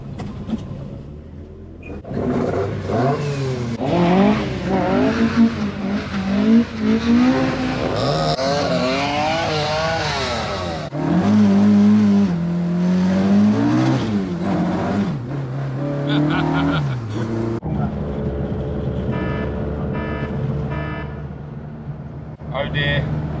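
Classic Ford rally cars rev and accelerate nearby on a mountain road run, engines rising and falling with some tire squeal, while people talk over much of it.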